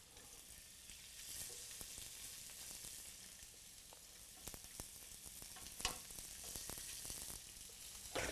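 Scallops searing in a pan in a quiet, steady sizzle with scattered crackles and pops, close by and without talk.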